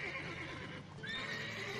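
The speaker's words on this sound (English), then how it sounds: "now calm the horses with Axie" Horses in The Witcher 3 video game whinny with a rising, quavering neigh over soft hoof clip-clops and a steady background din.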